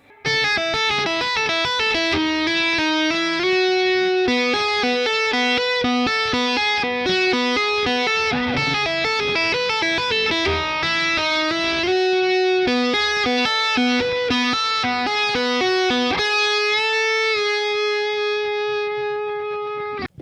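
An electric guitar plays a solo, a continuous run of bright distorted notes that ends on a held note.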